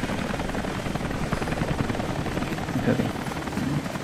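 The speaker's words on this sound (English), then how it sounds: "a helicopter is chopper is coming." Helicopter rotor chop from Rise of the Tomb Raider gameplay, a loud steady thumping beat filling the whole stretch, with a voice briefly speaking over it.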